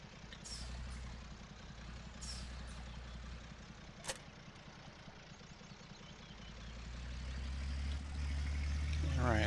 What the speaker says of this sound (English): Love this little truck.